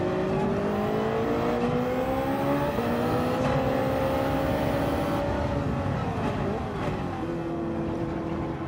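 A race car engine holds full throttle in Gran Turismo 7, a loud, continuous droning roar with rising and falling pitch as gears shift, near and steady throughout without any talk.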